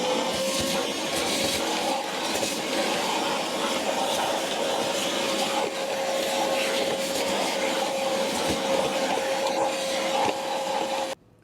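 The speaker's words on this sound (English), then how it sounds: "Now we are going to go through and just sweep in here to get any dust out." A vacuum runs steadily for about eleven seconds, sucking dust from inside a Horizon T20 treadmill, a loud continuous whine with a bright tonal hum, cutting off right at the end.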